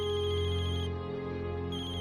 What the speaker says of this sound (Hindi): भाई शेठ का फोन है